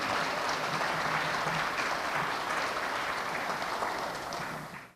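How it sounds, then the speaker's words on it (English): A gala audience applauds at a youth empowerment awards evening, producing a broad, sustained wash of clapping that holds steady for about five seconds before cutting off abruptly. "Please give them a round of applause"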